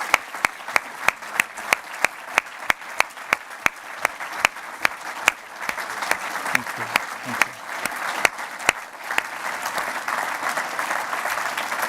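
At a banking supervision forum, applause sounds as a soft, wide crowd wash, with a few loud individual claps cracking sharply and evenly through it in a steady rhythm before fading out.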